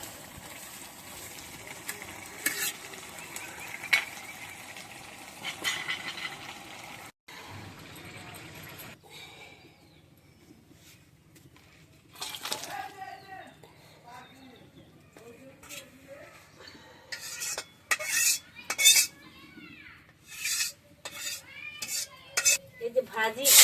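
Fish fries in a home kitchen pan with cumin while a utensil scrapes and clinks against the metal, quiet sizzling at first, then a burst of louder stirring and clattering near the end, with a voice talking over it.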